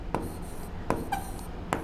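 Handwriting on paper with a pen, three short distinct strokes spaced apart against a quiet background, close and clear, with no talking.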